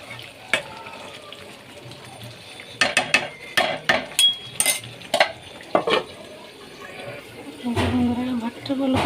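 Chicken curry being stirred and fried in a pot, with a run of sharp clanks and scrapes of a spoon against the metal and a rising sizzle near the end.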